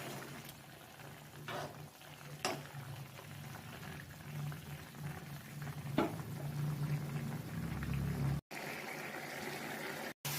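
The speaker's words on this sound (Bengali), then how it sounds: "এই যে ফুটছে।" Pumpkin curry, its spices fried and water added, boils in a pan with a soft, steady bubbling, fairly quiet and close, without talking.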